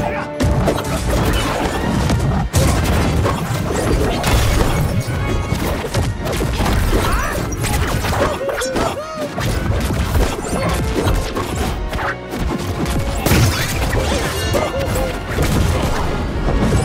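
Bombs explode amid frantic brawling in the fighting game MultiVersus, with loud, repeated crashing blasts and impacts layered densely over game music and effects for the whole stretch, dominating everything.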